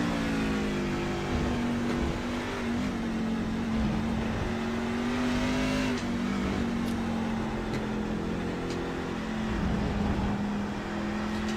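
Race truck engine on an onboard lap at Circuit of the Americas in a racing video game, a loud continuous drone whose pitch holds steady and wavers slightly through shifts, with no talk over it.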